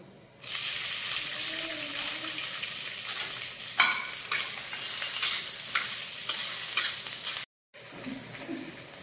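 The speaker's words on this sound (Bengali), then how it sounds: "তেলটা গরম হয়ে গেলে প্রথমেই আমি দিয়ে দেবো এই টুকরো করে রাখা চিকেনের পিসগুলো" Chicken pieces sizzle in hot oil in a pan while being cooked for chow mein, a steady close frying hiss with occasional stirring clatter and a brief break near the end.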